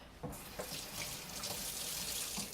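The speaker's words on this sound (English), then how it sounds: "let's rinse that off" Tap water runs steadily into a kitchen sink, rinsing a batch of steamed vegetables, a continuous close hiss that starts abruptly and holds level throughout with no talking.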